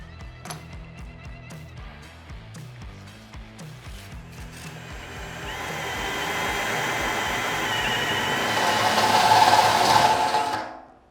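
A step bit drills holes through the thin sheet metal of a DIY smokeless fire pit, a rough grinding whine that builds and grows louder and harsher over several seconds, then cuts off abruptly.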